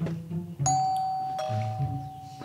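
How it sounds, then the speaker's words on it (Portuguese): A doorbell rings during a Brazilian comedy web series scene, its bright chime ringing out and sustaining clearly over a low background hum, loud and close with no talk over it. "Opa! A campainha."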